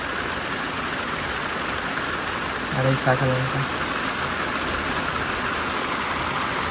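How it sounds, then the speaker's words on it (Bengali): Heavy rain pours steadily in the Sundarbans, a dense, unbroken hiss of falling water while a person speaks briefly in the middle. "বৃষ্টি শুরু হয়েছে"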